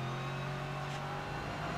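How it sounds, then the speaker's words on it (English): Race car engine at Brands Hatch, a Ginetta GT4 Supercup car, holds a steady loud drone with a strong low hum and a brief rise in the middle, with no talk over it. "Just listen to this car."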